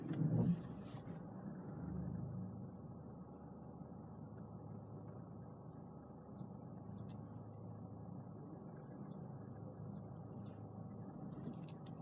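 A Mercedes car reverses slowly into a tight parking space between two cars under automatic Park Assist, giving a steady low engine hum and rumble with a brief louder blip at the start.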